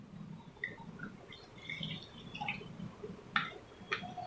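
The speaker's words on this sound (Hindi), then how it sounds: "थर्ड आपको हम डाल रहे हैं स्प्राइट का, जो आप कोई भी कोल्ड ड्रिंक पीते हैं उसका पानी" Sprite soft drink poured into a glass, heard as faint, scattered trickling and dripping blips over a low room hum.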